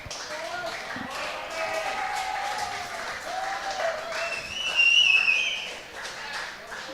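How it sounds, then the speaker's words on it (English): Crowd applause drifts in from a neighbouring match at the Australian Senior Sides lawn bowls championships, women's round, steady and fairly distant beneath a commentator speaking throughout. "Could hear the crowd getting into the matches"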